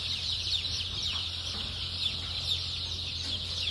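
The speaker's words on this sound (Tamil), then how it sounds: "ஊர் கோழி குஞ்சு இருக்கு, பிராய்லர் குஞ்சு இருக்குது." A dense chorus of many native and broiler chicks cheeping continuously at a Sri Lankan chicken farm, high and shrill, close by over a low steady hum.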